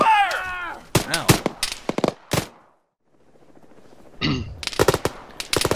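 Bursts of gunfire from the video game Arma crack out in two volleys, loud and close, with a quiet gap between them and excited voices talking before and during the shooting.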